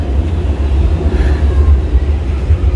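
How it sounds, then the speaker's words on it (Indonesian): Low rumble of an MRT metro train pulling away from a quiet station on a Sunday, a steady droning hum that holds at moderate loudness throughout without any voices. "MRT-nya baru berangkat."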